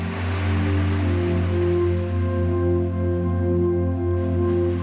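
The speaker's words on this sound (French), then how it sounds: "tout comme ces vagues qui se brisent sur ce littoral" Waves breaking steadily along the Algerian coastline, a continuous loud roar of surf with a low rumbling wash and no talk over it.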